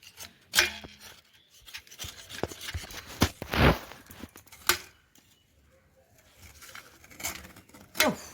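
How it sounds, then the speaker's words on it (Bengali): A knife chops jaggery into small pieces, giving sharp, close, irregular cuts with short pauses and one louder scraping stroke in the middle. "আর গুড়টা আমি অল্প দিয়ে দেবো। কুচি কুচি কুচি কুচি করে নি।"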